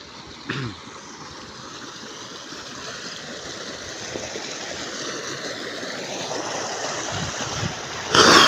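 Rainwater flows through a village after heavy rain, a soft continuous rushing and trickling that builds gradually, with a brief louder splash or knock near the end and no talking.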